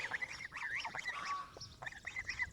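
Geese honk in a rapid run of loud, nasal calls with a brief pause before another burst, close by in an outdoor farm setting.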